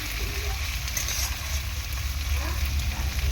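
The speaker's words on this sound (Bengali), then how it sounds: "এরকমভাবে রসুন আর পেঁয়াজের মধ্যে চিংড়ি মাছটাও সুন্দরভাবে ভাজা হয়ে যাবে" Shrimp frying in oil with garlic and onion, a steady close sizzle with soft stirring scrapes and no break.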